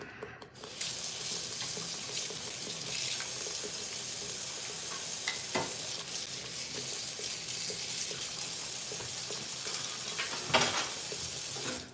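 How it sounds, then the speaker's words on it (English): Butter chicken sauce in a pan, bubbling and popping with a dense, continuous sizzling crackle and occasional sharper spatters throughout. "this is bubbling. Ooh, it's popping everywhere"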